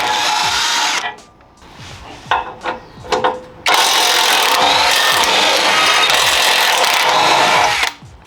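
A loud power tool whirs in long bursts while bumper bolts come off a Ford Bronco, with a short pause and a few clanks between the runs.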